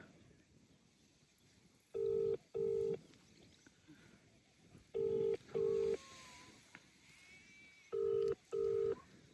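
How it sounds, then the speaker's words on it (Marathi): Phone ringing tone of an outgoing call: three evenly spaced pairs of electronic beeps over a quiet background. "आता फोन करूया आपण"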